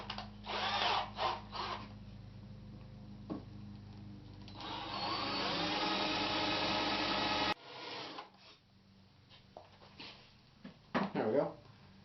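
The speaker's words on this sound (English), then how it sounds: "Now I'll just use this power drill to use the countersink." A power drill fitted with a countersink bit whirs as it widens screw holes in a wooden knife holder, several short bursts then one long sustained run, with speech between.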